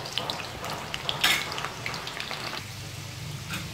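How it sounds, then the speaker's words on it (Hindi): Potatoes fry in oil for a mutton gravy, a steady crackling sizzle with sharp pops and bright spits, close and fairly loud throughout with no talk. "आलू मेरा फ्राई हो गया"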